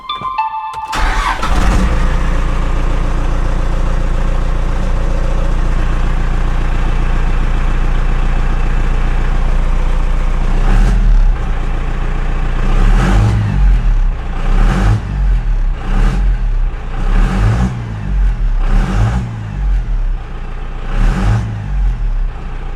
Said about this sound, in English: So I'm going to go start up the truck, and we're going to see what this sounds like